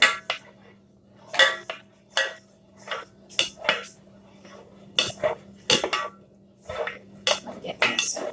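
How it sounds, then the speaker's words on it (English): Milk and noodles stirred in a pot for mac and cheese, a series of distinct clinks and scrapes of a utensil against the metal pot in an irregular rhythm, close and clear. "You need to constantly stir the milk or else it'll burn."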